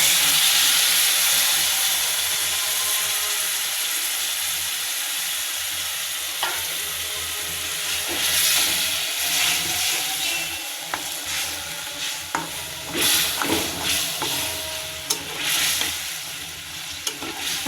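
Eggs frying in a pan sizzle steadily as water is added, the hiss swelling into louder steam bursts with stirring clatter over roughly eighteen seconds.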